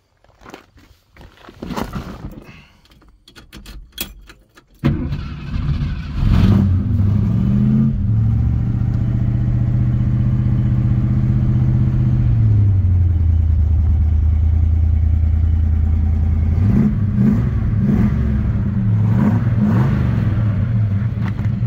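A 1970 Ford Maverick Grabber's engine cranks and fires after a few clatters, then settles into a loud, steady idle with brief revs rising and falling near the end, close up.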